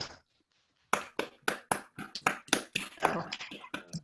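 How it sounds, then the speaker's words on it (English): A small round of applause in an online Zoom board of education meeting: after a brief silence, scattered claps come through, uneven and close, with a few overlapping toward the end, fairly quiet overall. "can we give them a round of applause?"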